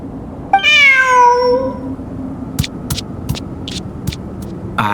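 One long, drawn-out cat meow in the video game Genshin Impact rises and falls over a low hum, followed by several sharp clicks and taps.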